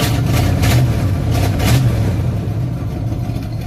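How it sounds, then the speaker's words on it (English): A car engine fed by a 4-barrel carburetor on a 2-barrel adapter runs close by with the throttle held slightly open, a steady, rough low rumble with faint pulsing and no talk. "I'm holding down on the throttle just a little bit."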